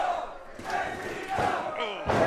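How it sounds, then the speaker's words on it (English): A wrestling crowd cheering during a tag-team match, a roaring mass of voices that swells and surges in waves, loud and continuous throughout. "D.R.E trying to get the crowd back into it, and of course the crowd's going to respond."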